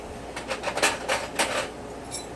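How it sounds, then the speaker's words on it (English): Hot tap water running onto a metal pot coated in hard crack candy, with a series of clinks and knocks from the pot against the sink under a steady hiss of the stream, close and fairly clear. "I'll go ahead and put it under the hot water"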